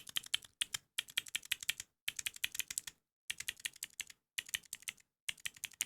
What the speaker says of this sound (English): this is a little keycap on it. Yeah, this is what it sounds like.